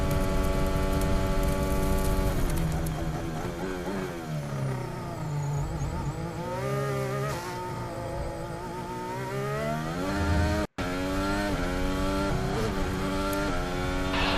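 Formula 1 race car at the 2021 Abu Dhabi Grand Prix, an AlphaTauri, recorded onboard: a loud, continuous engine screams through rising and falling revs with quick gear shifts and one brief cut near the end.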